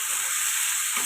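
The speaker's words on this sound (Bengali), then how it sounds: "দিয়ে দেবো টমেটো কুচি, অল্প একটু দিয়ে দেবো লবণ, এটাকে কষাতে থাকবো।" Chopped tomatoes with a little salt sautéing in a pan for butter chicken, a steady, close hiss and sizzle lasting a brief moment.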